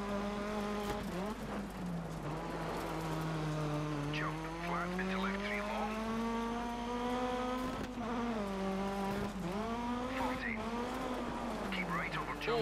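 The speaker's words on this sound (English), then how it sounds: "You can hear that turbo whistle there." Rally car engine in Dirt 3 racing game, revving hard with a steady rising and falling drone and a faint high turbo whistle layered on top, continuous and loud under commentary talk.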